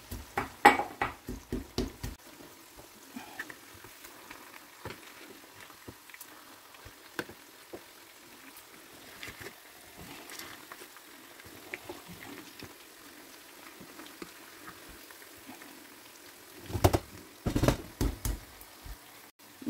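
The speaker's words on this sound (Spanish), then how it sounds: "Y lo vamos a machacar todo junto." Frozen chopped parsley and cumin being pounded together in a mortar, bursts of dull knocking thuds at the start and near the end with quiet scraping between.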